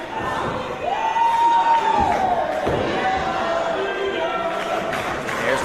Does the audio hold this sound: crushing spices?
no